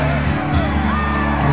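Large street crowd cheering Richard Nixon's 1968 motorcade in Chicago, a loud continuous roar of voices with whoops and shouts close by.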